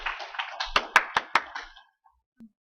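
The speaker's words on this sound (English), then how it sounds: "let's do the applause" A small class in a history lecture gives brief applause: a handful of quick, sharp claps from nearby hands that quickly thin out and stop, followed by near silence and one faint tap.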